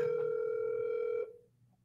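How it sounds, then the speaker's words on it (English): Telephone ringing heard down the line, a single steady electronic ring tone held for about a second before cutting off and fading, faint and alone. "It's ringing again."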